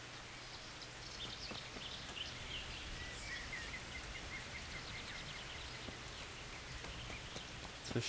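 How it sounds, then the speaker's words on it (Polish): Rain falls steadily in the video game Kingdom Come: Deliverance while faint bird chirps peek through the patter, with no voices. "słychać ptaki mimo, że pada deszcz"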